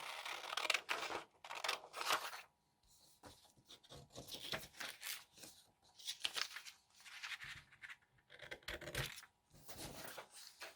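Scissors snipping paper for a Christmas junk journal page, a close, quiet run of rapid crisp cuts in bursts separated by short pauses.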